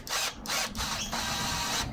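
A power tool drives a screw on a Ryobi RLT26CDSN string trimmer, with loud close whirring bursts that stop and restart several times in quick succession.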